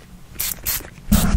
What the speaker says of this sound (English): Let me just spray in this detangler here.